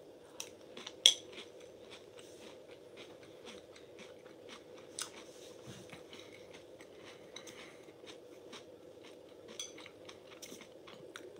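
Crunchy matcha-flavored Japanese breakfast cereal being eaten in milk, with faint, repeated crisp crunches and occasional spoon clinks against a bowl over a low steady hum, quiet and close.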